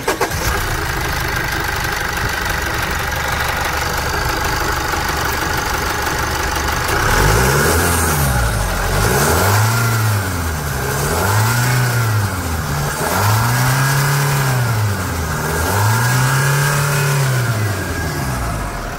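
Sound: diesel pickup truck engine revving

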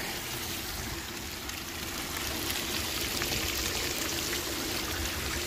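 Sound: water pouring from cheap Amazon bilge pump hose

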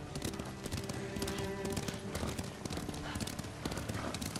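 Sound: horse hooves clip-clopping, video game Ghost of Tsushima

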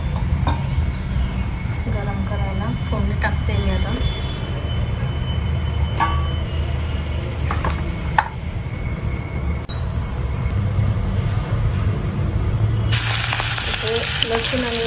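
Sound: food frying in oil

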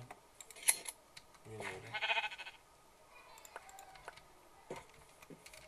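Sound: sheep bleating in Minecraft video game

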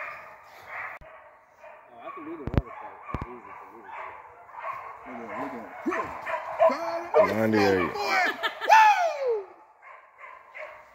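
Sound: fox beagles hunting dogs barking and baying

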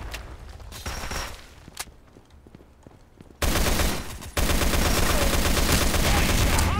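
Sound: gunfire in video game Sudden Attack 2

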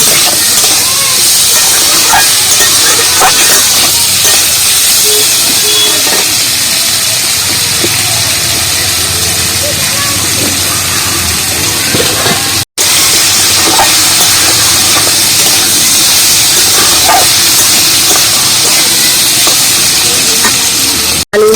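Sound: potatoes frying with salt in a pan

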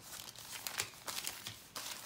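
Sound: glassine bags being pulled out, crinkling

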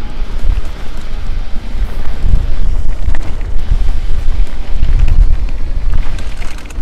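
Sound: wind

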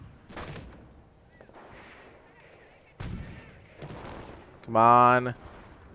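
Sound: gunfire in the video game Company of Heroes

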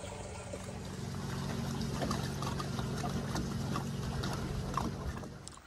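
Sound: water draining from jugs

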